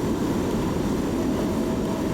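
Airplane engine drones steadily in the Extreme Landings Pro flight simulator game, a loud, even roar that runs without a break and with no other sounds on top.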